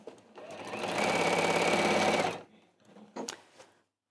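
A sewing machine runs steadily for about two seconds, stitching a seam along a bag, then stops. Brief handling clatter follows.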